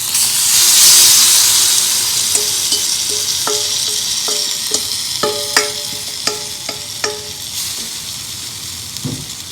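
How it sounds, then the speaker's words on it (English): Mashed tomatoes sizzle and hiss in a hot pan while a spoon stirs, a loud steamy burst at the start settling into steady frying with a series of sharp clicking knocks from utensil against pan. "And I'm going to stir. Let it cook just a minute or two."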